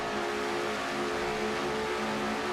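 Race cars in a racing video game at the Auto Club 400, a steady droning engine roar with sustained tonal whine, fairly quiet and continuous, no talk over it.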